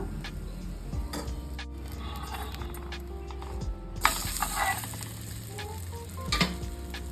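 Thick spinach rava dosa batter with carrot and onion sizzles steadily in oil on a hot pan, a continuous close frying crackle with a brief louder burst of spitting when more oil is added.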